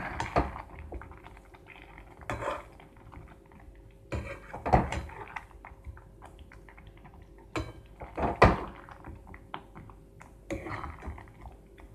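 A lid clatters onto a pan of simmering katla fish curry with green peas, giving several sharp metallic knocks and scrapes spread across the stretch, close by, with no talking.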